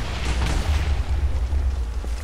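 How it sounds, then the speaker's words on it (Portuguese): Explosion in the video game Minecraft, a deep continuous rumbling boom that fills the whole clip at steady loudness, with no speech over it. "Cara, para de explodir na boa!"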